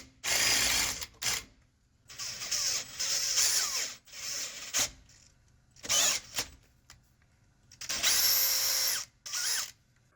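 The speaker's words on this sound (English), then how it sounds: "I'm drilling a bigger slot for the air hose so we can route it" Power drill cutting a larger slot through the metal housing of a DIY planishing hammer, loud high-pitched bursts of drilling starting and stopping several times with short quiet gaps between, close by and no talk.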